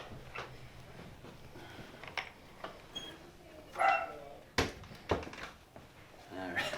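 A small dog indoors during removal of old aluminum windows, barking and whimpering in short intermittent bursts at moderate distance, with thumps and workers' voices mixed in.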